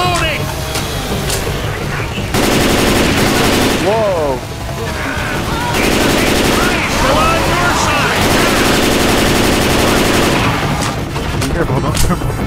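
Machine-gun fire in the zombie shooter Left 4 Dead, dense bursts of shots, loud and close, running through most of the stretch with a short lull, under excited talk from players.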